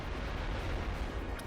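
A bomb explodes in the video game Wild ARMs 3, heard as a dense, rumbling burst of noise that holds steady for the whole short moment.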